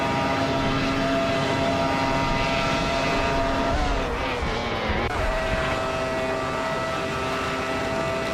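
Race cars in a racing video game roar past in a continuous loud engine drone, with the pitch sliding downward midway as one car passes and steady high-revving tones on either side.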